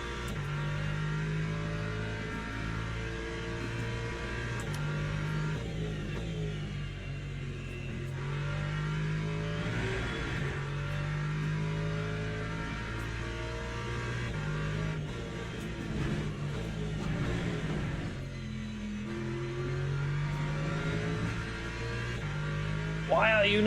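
A race car engine drones and revs in the Le Mans Ultimate racing video game, with a steady loud hum that rises and falls through gear changes.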